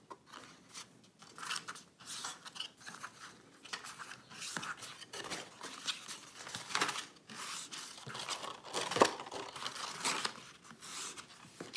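Paper creased and folded by hand into a small storage box for embossing folders, giving a steady run of close crinkling, scraping and crackling with no talking.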